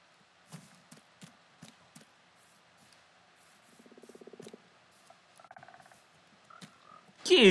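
A frog croaks in Minecraft: a short, buzzy, ribbed croak stands out among scattered soft clicks and faint blocky game sounds, and a louder burst of game noise cuts in at the very end.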